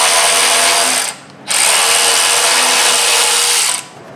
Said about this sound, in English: So there we go, it's just a thread chaser there.